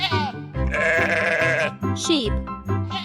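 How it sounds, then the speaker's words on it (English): A sheep gives several wavering bleats, close and loud, layered over a sustained musical backing with voice-like tones. "Sheep."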